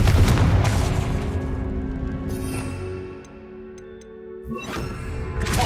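A Confringo fire spell bursts in Hogwarts Legacy with a loud low boom at the start that rumbles and fades, followed by a quieter stretch with small ticks and a second burst near the end.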